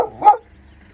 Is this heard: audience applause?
no